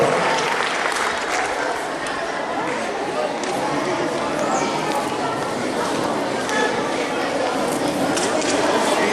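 Steady applause from a crowd at a school graduation ceremony fills the whole stretch, dense and continuous clapping at an even level with faint chatter mixed in.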